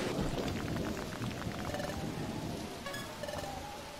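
A video-game thunderstorm in Pokémon Mystery Dungeon Sky: steady heavy rain with a low rumble of thunder swelling beneath it, moderately quiet and alone without voices.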